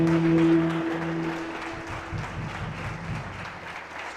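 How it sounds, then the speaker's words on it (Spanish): A crowd applauds in a moderate, steady wash of clapping, with a sustained tone lingering underneath at the start. "Dale un fuerte aplauso."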